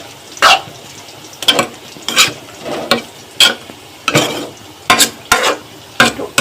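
Taro greens being stirred in a frying pan, giving repeated bursts of scraping and sizzling at an irregular rhythm, close and fairly loud, with no talking.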